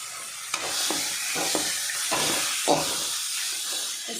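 Tomatoes and masala for a chicken masala fry in a pan with a loud, steady hissing sizzle, joined by soft stirring scrapes throughout.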